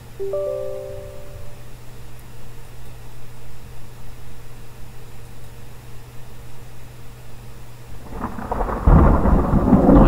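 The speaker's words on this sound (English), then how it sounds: "Roll of thunder in the background there." A thunder roll from the real-weather system in the X-Plane 11 flight simulator rumbles steadily in the distance, then swells into a louder, sharper crack near the end of the clip.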